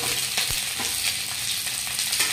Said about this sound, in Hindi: तब तक हम इसको हल्का हल्का फ्राई करते रहेंगे